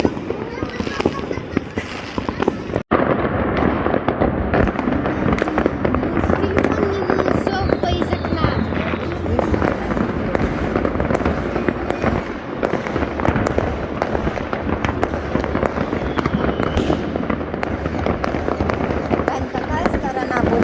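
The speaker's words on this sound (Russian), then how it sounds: "Вот такой вот адлерский салют." New Year fireworks display over Adler, a dense continuous barrage of pops, crackles and booms throughout, loud and rolling, with people talking and exclaiming over it.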